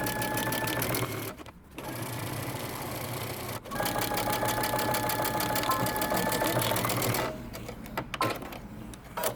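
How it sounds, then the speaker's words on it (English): A sewing machine stitches the underarm seam of a jumpsuit sleeve, a fast steady mechanical whir that pauses briefly twice, near and clear with no talk. "go ahead and do your underarm seam using 5/8 of an inch seam allowance"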